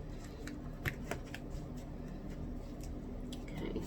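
A thick tarot deck is shuffled by hand, giving soft, quick riffling clicks and slaps in irregular bursts, close and fairly quiet, over a low steady room hum.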